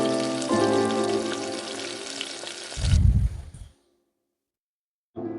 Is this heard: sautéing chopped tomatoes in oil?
yes